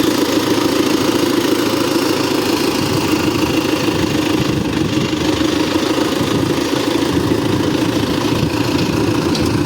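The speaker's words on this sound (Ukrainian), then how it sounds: "Цей трактор вже забрали, буде їхати він далеко" Tractor engine running steadily as the machine heads off to a new owner, a loud continuous mid-pitched drone with even vibration and no pauses or voices throughout.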